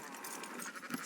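A sheep bleats in the video game Red Dead Redemption 2, a wavering, nasal cry heard up close for about a second over a soft background.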